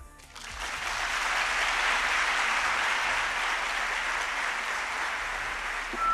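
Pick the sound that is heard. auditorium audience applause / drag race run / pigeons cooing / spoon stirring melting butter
auditorium audience applause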